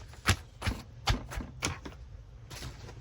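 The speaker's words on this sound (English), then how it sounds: "I think I'm going to tear it." Paper is torn for a creative journal page in a series of short, sharp rips spaced about half a second apart, close by and fairly quiet.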